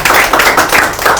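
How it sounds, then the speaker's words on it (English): Brief burst of clapping from a small audience at a student farewell function, loud and close, with rapid overlapping hand claps. "So let's clap for them"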